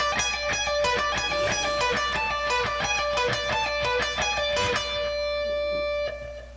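Distorted electric guitar playing a fast solo passage, rapid picked notes in a steady stream that stop and leave a single sustained note ringing out.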